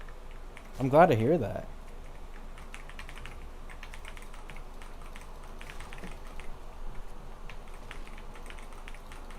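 A gaming keyboard clatters with steady rapid key clicks throughout at close range, with a brief spoken phrase near the start.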